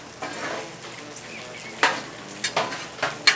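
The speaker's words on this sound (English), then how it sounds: "We can build these tachos right onto the griddle top." Tater tot nachos being built on a griddle top sizzle softly beneath several sharp metallic scraping and clinking hits from a spatula, spaced irregularly through the second half.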